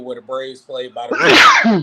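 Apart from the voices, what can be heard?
sneeze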